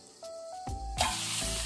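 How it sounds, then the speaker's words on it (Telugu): Brinjal (eggplant) pieces fry in a pan, quiet clinks and a faint tone giving way to a sudden, louder sizzle that keeps going close by. "ఇప్పుడే వంకాయ తొందరగా ఫ్రై అయిపోతుంది"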